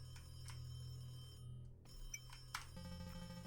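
An old-style telephone rings steadily in a quiet room in the horror game The Creepy Syndrome, a repeating electronic bell pattern under a low hum with a few faint clicks.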